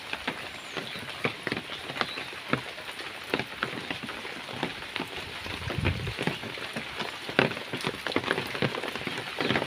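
Heavy rain pours down at a village home, a steady dense patter of drops striking surfaces, with louder splashes scattered throughout and no voices.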